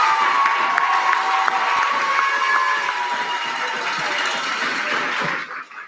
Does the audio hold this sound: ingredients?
no